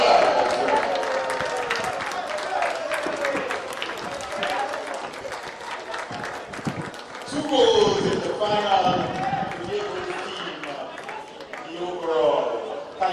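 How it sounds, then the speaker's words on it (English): Crowd applause and cheering at a basketball awards presentation for the most valuable player, clapping mixed with an announcer talking over a lively, echoing gym, swelling in bursts. "a rousing round of applause for Bishon Richard, Vincy, Ballers."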